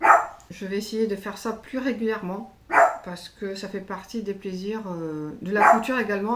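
A dog barks a few times, sharp yips standing out above a woman's continuous speech in a home sewing setting.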